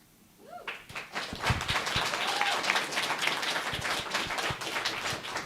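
Audience applause at a Taos County candidate forum for magistrate judge and sheriff: after a brief quiet start, a dense wash of many hands clapping builds and holds steadily at moderate loudness, slightly distant in the room.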